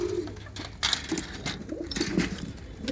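Pigeons kept in pens at a breeders' coop, where several birds give low throaty coos in short, irregular bursts against a noisy background, with a few sharper clicks or scrapes mixed in.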